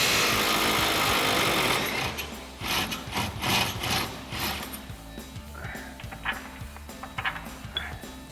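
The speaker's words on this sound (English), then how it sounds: "So we're going to use our 24mm socket to get those off." Ratcheting and mechanical clicking from a 24mm socket wrench loosening frame rail bolts on a 2020-2026 Chevrolet Silverado 2500, with a loud sustained grinding burst at first, then intermittent ratchet clicks and metallic rubbing, close up.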